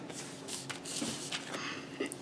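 Paper being folded into an origami BB-8, soft close crinkles and rustling creases in short bursts over a quiet room.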